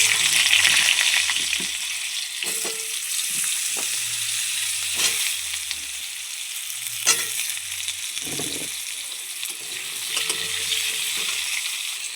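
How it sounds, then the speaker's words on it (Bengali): Raw banana and potato pieces fry in oil in a pan, giving a constant close sizzle broken by periodic scrapes and clacks of a spatula stirring them. "কাঁচকলাটা আর আলুটা একটু ভাজা হয়ে গেছে"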